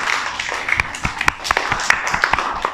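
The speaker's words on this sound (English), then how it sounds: "Clap for Khalda, all of you." Young playgroup children clap together in a classroom, a quick run of sharp, uneven claps close by under faint background noise.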